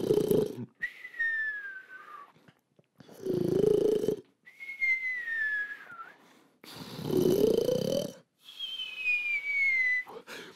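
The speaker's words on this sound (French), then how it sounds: "Et le voilà qui s'allonge et qui se met immédiatement à ronfler." Loud snoring in slow repeated cycles: rumbling snorts on the inhale, each followed by a high whistling exhale, with short silences between breaths.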